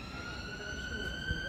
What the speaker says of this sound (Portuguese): Vocês podem ouvir aí a sirene,